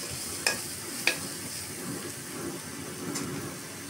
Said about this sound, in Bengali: এখন দিয়ে দিচ্ছি লাড়া।